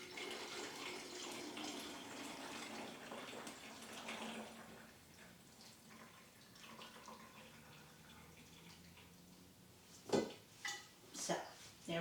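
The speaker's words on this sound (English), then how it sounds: "Pull the pan out and pour my juice in here and let the strainer top catch everything." Pot roast juice is poured from an Instant Pot through a strainer lid, a liquid pour and splash fading out, then a few sharp clanks of metal pan and utensils, close and quiet, while a person talks.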